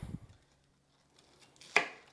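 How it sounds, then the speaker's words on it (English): A knife chops onions on a cutting board in a kitchen: a few soft thuds at the start, a quiet pause, then one sharp, close chop near the end. "make sure that when you're chopping, you stop at the midpoint right here"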